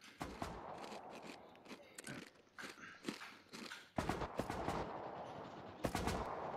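Gunshots in the video game Rust, an irregular string of sharp single shots and short bursts, some near and loud, others fainter, over quiet movement noise.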